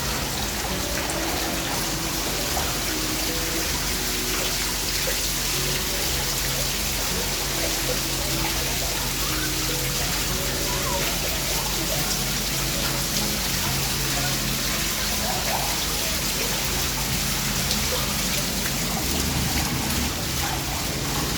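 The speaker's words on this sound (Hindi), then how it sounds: "ये देखें कितनी तेज़ बारिश हो रही है यहाँ पर, पानी देखें कितनी स्पीड से आ रहा है और ये छत से आ रहा है।" Heavy rain pours down steadily with water rushing down a flight of stairs from the roof, a dense continuous wash of splashing and streaming that stays loud and unchanging throughout.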